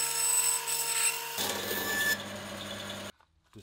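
A bandsaw with a circle-cutting jig slicing through form ply above a plywood base: a steady humming whir that shifts tone partway through, then cuts off abruptly near the end, with no speech.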